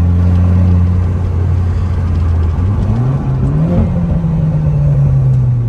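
A Renault Clio 4 RS engine drops down through all gears from fifth, its steady drone stepping upward in pitch with each quick downshift, loud and close from inside the car.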